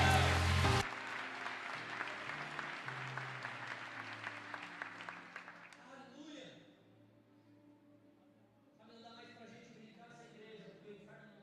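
A church congregation breaks into dense applause that fades partway through. Music and voices carry on underneath as it dies away, and they swell again near the end.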